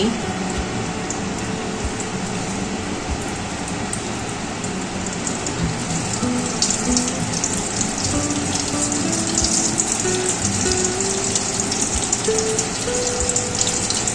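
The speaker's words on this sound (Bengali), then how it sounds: "বাকি যেগুলো ছিল সেগুলো এখন ভাজার জন্য দিয়ে দিচ্ছি" Chicken and semolina balls deep-fry in hot oil, a steady, dense rain-like bubbling and crackle that runs the whole time, with a faint voice in the background.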